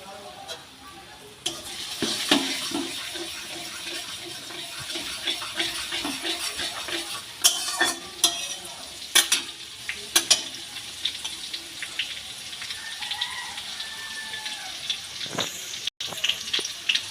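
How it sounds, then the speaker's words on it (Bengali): Grated ginger goes into a hot pan for dhaba-style egg tadka, setting off a bright hiss and sizzle with scattered stirring clatters and clicks, close and moderately loud, without speech. "গ্রেট করে রাখা আদাগুলো দিয়ে দিচ্ছি।"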